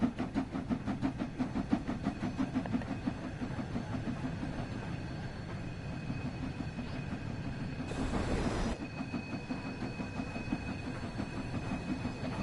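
A train running in the Train Sim World 6 game on a line around Fife, with a steady rumbling engine and rolling wheel drone throughout and a brief hiss-like burst near the end, with no talk.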